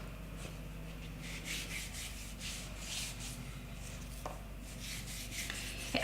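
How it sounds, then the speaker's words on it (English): A hand gently rubs sugarpaste icing down over a cake in soft, repeated strokes, a quiet dry brushing heard up close with no talking. "I just tease the icing out and start to really gently rub down with my hand."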